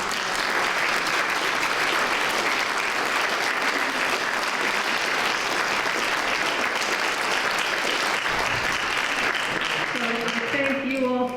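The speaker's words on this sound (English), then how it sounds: "I lift my ban on clapping so that we can thank the candidates" An audience at a candidates forum claps loudly and steadily for several seconds, a dense wash of applause that fades as someone begins speaking at the end.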